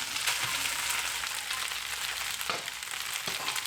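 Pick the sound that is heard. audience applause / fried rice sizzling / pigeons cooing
fried rice sizzling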